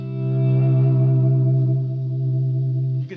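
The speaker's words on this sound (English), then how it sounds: "you can still create swells" Electric guitar played through effects, a sustained note swelling in and holding steady with chorus-like shimmer and distortion, loud and alone, cut off sharply near the end.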